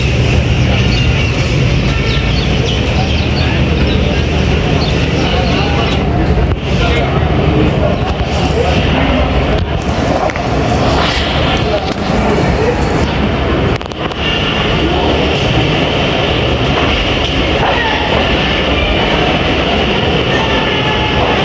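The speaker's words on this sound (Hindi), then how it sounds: "हमारी ट्रेन का इनिशियल डिपार्चर वैसल हो गया और मूव हो रही है दोबारा से ट्रेन।" The Tezgam Express pulls away again after its departure, a loud continuous rumble of the moving carriages with steady rattling and clatter filling the whole stretch without pause.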